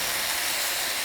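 Cowboy stir-fry cooks over medium-high heat on a Blackstone griddle, giving off a loud, steady, hissing sizzle that stays even and unbroken for about a second.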